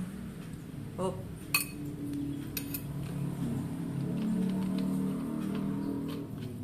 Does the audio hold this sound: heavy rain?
no